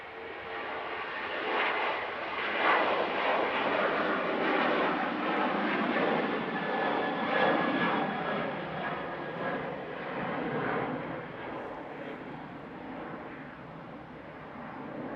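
A Ryanair airliner arriving at Manchester Airport makes a steady, broad jet roar at middle distance that swells slightly and holds for the whole stretch, with no voices.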